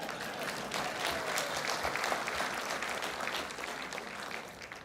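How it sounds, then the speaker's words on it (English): Sustained applause from a gala audience, a dense even wash of clapping that holds steady and then tapers off slightly at the end. "please clap, go ahead"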